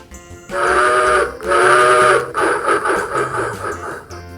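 A train sounds two loud, hissing whistle blasts back to back, followed by a rhythmic series of shorter chuffing bursts fading away, over quiet background music.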